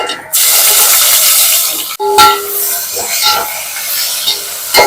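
Ginger garlic paste hits a hot pan of onions and green chillies for chicken biryani, setting off a loud sizzling burst, followed by rasping scrapes of a spoon stirring against the pan.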